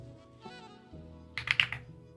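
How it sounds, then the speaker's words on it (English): Typing test on an Emerald mechanical keyboard: a faint background tone, then a short quick cluster of key clicks near the end, close and fairly quiet. "Let's go to a typing test."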